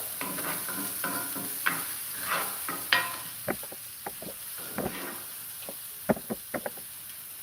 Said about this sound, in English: I usually saute up the onions first, and then I'm going to add the curry to this.